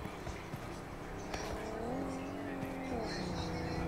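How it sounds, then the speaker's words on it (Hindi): Vehicle engine droning in the mobile battle royale game BGMI, a steady mid-level motor hum with a brief rising pitch sweep, heard under a continuous bed of in-game noise. "मैं गाड़ी लेके आ रही"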